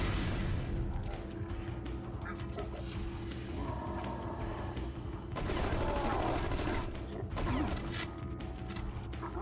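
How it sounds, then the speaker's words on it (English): Rocket launcher fire in the sci-fi shooter The Conduit brings heavy blasts and crashing explosions over a dense, continuous bed of game combat noise, with the loudest bursts coming later. "Goated rocket launcher, not gonna lie."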